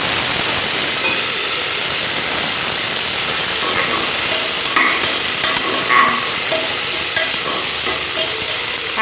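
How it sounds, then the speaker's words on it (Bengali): Soaked raisins and washed cashews fry in hot ghee in a new pressure cooker, giving a loud, steady sizzle and hiss with occasional scraping stirs and clinks, close by and without speech. "এটা কিন্তু এই ঘিয়ের মধ্যে দিয়ে নাড়িয়ে নেব।"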